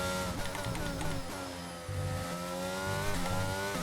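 Formula 1 car engine in the F1 22 video game, a steady high-revving whine with harmonic gear shifts and a brief dip near the middle before climbing again, loud and continuous with no talk.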